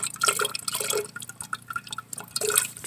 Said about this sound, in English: I'm going to run a little bit of water over this